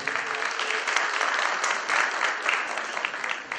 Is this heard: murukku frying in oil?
no